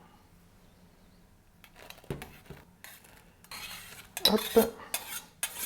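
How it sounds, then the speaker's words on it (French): Dry rice pours into a saucepan of boiling milk with a soft rattle, followed by spoon scrapes and stirring clatter against metal, with a brief spoken word. "donc je rajoute le riz"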